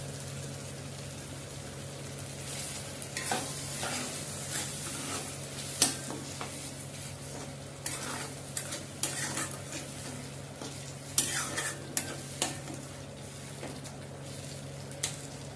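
Mustard and poppy seed paste sizzles in a pan while a utensil stirs and scrapes it with irregular knocks against the metal, close and steady throughout.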